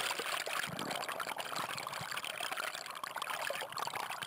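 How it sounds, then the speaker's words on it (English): Bubbling mountain stream swirling around stones, a steady close wash of trickling, pouring water with constant gurgles and splashes and no voices. "As the water swirls around each stone, it pulls air into itself."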